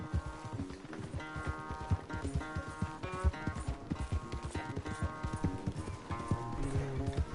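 Rapid hoofbeats clatter in a steady galloping rhythm over a music bed in Red Dead Redemption, with a brief horse whinny, loud and close throughout.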